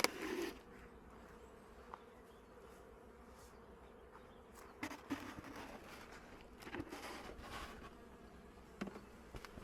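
Honeybees at a hive feeding on sugar candy, a steady low buzzing drone throughout with a few brief louder bumps, no talk.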